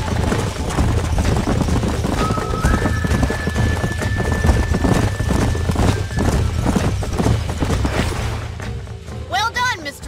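Horses in the Red Dead Redemption western video game, with dense, steady clip-clop of hooves and neighing, plus a loud whinny near the end, under game music and dialogue.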